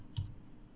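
A single soft mouse click in Gravit Designer design software, brief and close, over a quiet background.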